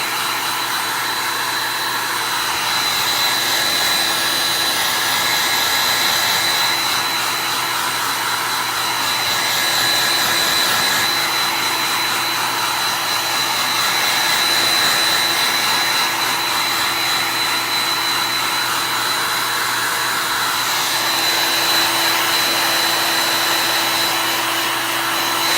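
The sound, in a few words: hair dryer drying a chalk paste layer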